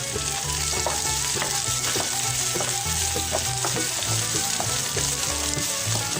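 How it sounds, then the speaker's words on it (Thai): Garlic, coriander root and black pepper are stir-fried in a pan as the base for a sago pork dumpling filling. A loud, continuous sizzle runs throughout, with busy stirring and scraping close by. "เอาสามเกยลงไปผัดก็จะมีรากผักชีกระเทียมพริกไทยนะคะ ลงไปผัดให้หอมเลย"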